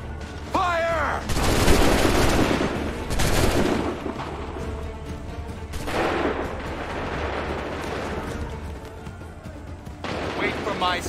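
Musket volleys on a fire command in Assassin's Creed III, loud booming gunfire crashing out in several heavy bursts with echoing rumble between them, while a commanding voice shouts over the battle.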